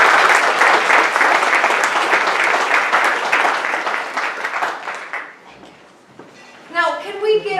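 Audience applause for scholarship recipients at an award presentation, a dense steady clatter of many clapping hands that fades after about five seconds, followed by a voice speaking.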